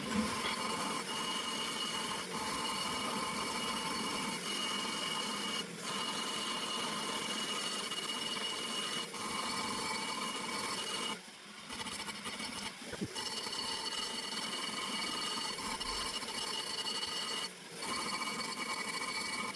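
A rotary cutter grinds away a TIG-welded divider in an RB26 cylinder head port, a faint, continuous high-pitched buzzing whir with a few short pauses and dips as the tool shifts.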